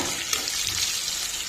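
Green chillies fry in hot oil in a pan while cooking tamarind-leaf pulihora, a continuous soft crackling sizzle that stays fairly quiet and steady, with no talking.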